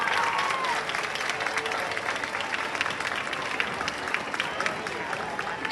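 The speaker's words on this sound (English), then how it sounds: "Another round of applause" Sustained applause from a crowd, dense clapping that holds steady at a fairly loud level throughout.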